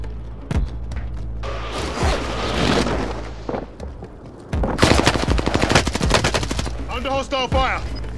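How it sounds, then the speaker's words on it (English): Battle royale video game gunfire: bursts of rapid automatic shots and single cracks rattle through the whole stretch, loud and close, with a deep booming bed and brief game voice callouts in between. "Under hostile fire!"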